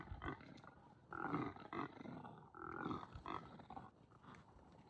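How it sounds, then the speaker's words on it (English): An impala calls on safari at Madikwe in South Africa, a series of loud, harsh, roaring grunts and snorts in bursts, close by and with no talk over it. "This is an impala calling."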